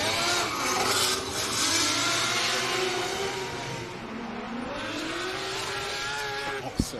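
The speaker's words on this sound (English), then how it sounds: "We'll hear that 20B rotary wind on up." A 20B rotary-engined drift car at Taupo Motorsport Park winds up loudly and continuously, its engine note rising and falling in sustained revving with harmonic sweeps, tire scrub and rasp underneath, and a brief sharp pop near the end.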